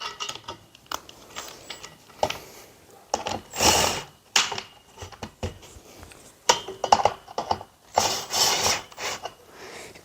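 Bolts being unscrewed on a Vecelo bed frame, giving irregular clicking, ratcheting and metallic scraping bursts with short pauses, close and fairly loud, with no talking.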